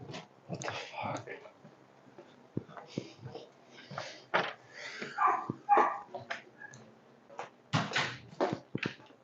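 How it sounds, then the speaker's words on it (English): Dogs barking indoors in scattered bursts while a person speaks over them, with a few knocks like a door or cupboard mixed in. "What are you guys barking at?"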